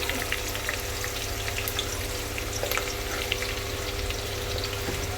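Green chili and onion frying in oil on low heat for khichdi, a steady dense sizzle running close and continuous throughout with faint stirring scrapes underneath and no talk.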